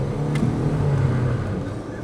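A 67-horsepower car revving as it tries to drift on a forest track, a steady engine drone that rises briefly and then holds, loud and close.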